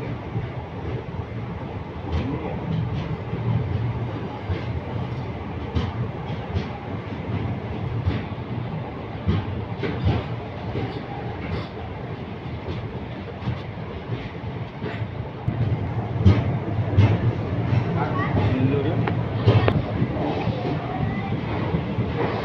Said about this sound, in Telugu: మన ట్రైన్ అయితే మైలాతురై జంక్షన్ ఆగింది.